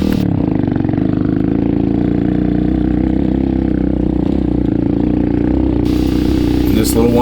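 An X-pro Storm 150 DLX motorcycle's stock 150cc engine chugs steadily at low revs while climbing a hill, a loud continuous drone close to the rider, with talk running over it throughout.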